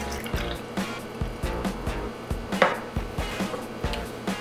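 Liquid aminos poured into a homemade dipping sauce for Thai wraps, a close trickle and drip with small irregular taps and splashes over several seconds.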